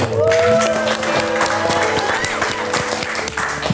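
Studio audience applause on a podcast show, steady loud clapping with cheers and tonal whoops over it, tapering slightly toward the end.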